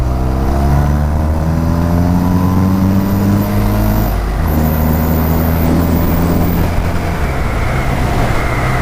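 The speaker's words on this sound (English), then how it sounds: "Let's go through the gears a little. Try and give it full welly." A BMW R100RS motorcycle in the foothills of the Flinders Ranges, Australia, accelerating hard through the gears, loud engine note rising in pitch, a brief dip at each gear change, then climbing again under heavy wind rush.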